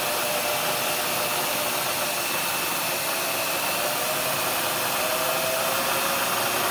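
A CNC mill spindle turns a face mill at about 2000 RPM in a home machine shop, a steady, loud, continuous whirring drone with a high hiss that holds unchanged throughout, with no talk.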